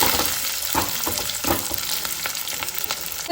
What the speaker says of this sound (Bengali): দিয়ে দিলাম ক্যাপসিকামগুলো আর একটু পেঁয়াজ